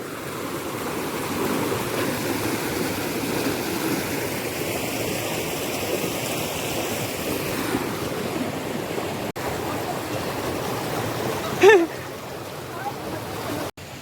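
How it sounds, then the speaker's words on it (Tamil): Falling water pours steadily at Durgapadu Waterfalls in Rayagada, a continuous broad rush that sounds fairly close, with a brief knock near the end. "அப்படியே அந்த தண்ணி வந்து அப்படியே வந்து இங்கேருந்து கொட்டுது அந்த அருவி"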